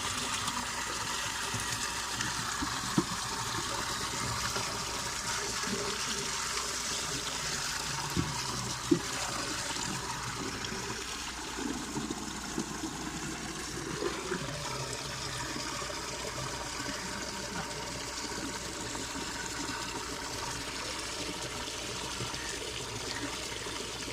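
Water running steadily on a cattle farm while the animals are fed, a continuous rushing trickle and gush with a few faint knocks, moderately close and with no speech.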